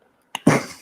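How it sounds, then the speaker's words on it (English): A man's coughing fit brought on by allergies during a live sewing session: a short throat catch followed by one harsh, loud, close cough that trails off. "I'm having a coughing attack over here."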